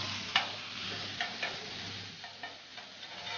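Calamari hits a very hot pan with a soft, steady sizzle, accompanied by a few light ticks and taps from utensils at irregular intervals.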